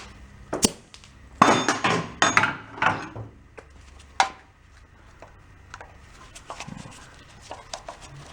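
A hammer strikes a manual impact screwdriver on a junk, rat-infested VW engine: a few sharp, close metallic knocks, one single and then a quick cluster, followed by a lone blow and faint clinks.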